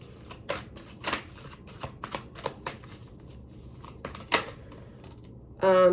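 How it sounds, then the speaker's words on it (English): Tarot cards shuffled from a deck, giving a run of crisp riffling snaps and flicks at close range, with a louder, denser burst of shuffling at the very end. "let's get one more card here from this deck."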